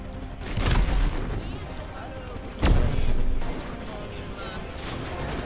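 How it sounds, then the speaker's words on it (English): Gunfire in the video game GTA 5: two loud, sharp shots about two and a half seconds apart, each followed by a rumbling decay, set against a continuous mechanical background. "Just need me to shoot that gun thing."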